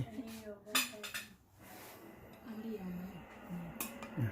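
Serving spoons scrape and clink against dishes at a Thanksgiving family meal, a few scattered metallic knocks over a murmur of voices talking nearby.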